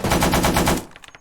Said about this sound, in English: Burst. 3 to 5 round burst.